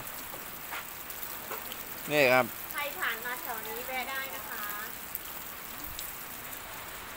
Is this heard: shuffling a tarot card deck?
no